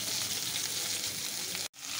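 Onions hit hot oil with whole garam masala spices in a pan, giving a dense, even sizzle and crackle that cuts out abruptly for a split second near the end before resuming.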